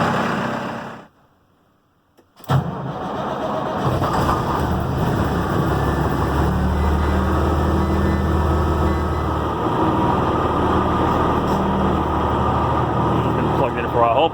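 A New Holland T7030 tractor fires up in cold weather after a near-silent pause and settles into a loud, steady low diesel rumble that runs close by until the end.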